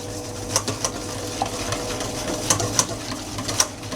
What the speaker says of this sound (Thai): ให้เราใช้ตะกร้อมือนะคะ โดยที่เราจะต้องคนส่วนผสมนะคะ รวมถึงน้ำมันนะคะ